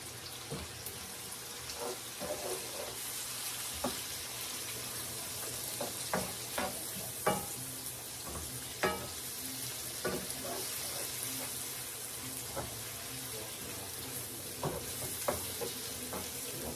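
Kale frying in a pan with bacon and salt makes a quiet, steady sizzle, broken by scattered clicks and scrapes of stirring.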